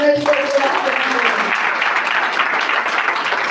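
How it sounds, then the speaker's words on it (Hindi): A church congregation clapping in worship to God, a dense sustained patter of many hands filling the room; a brief voice or tone sounds at the very start before the clapping carries on alone. "तो ताली बजाकर परमेश्वर"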